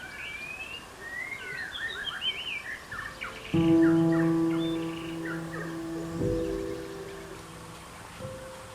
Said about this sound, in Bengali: কি একটা পাখি আনমনে ডেকে চলেছে